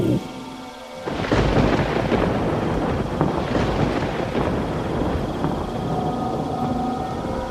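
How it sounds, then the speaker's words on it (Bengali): Heavy rain falls at night in a Bengali ghost-story audio drama, a steady, loud, dense roar that surges in after a quieter first second and continues unbroken to the end. "বাইরেই কিছুক্ষণ দাঁড়াই, বৃষ্টি কমে এলে বেরিয়ে যাব"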